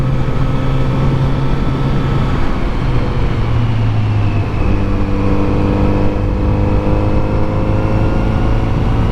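Kawasaki Z900RS motorcycle engine steady and loud while riding flat, winding back roads in Virginia, a continuous near drone with a slight shift in pitch partway through and no talk over it.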